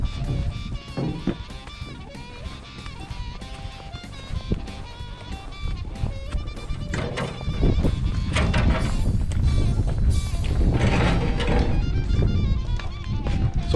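Goats bleat repeatedly over a busy, clattering barn background, with occasional movement noises mixed in throughout.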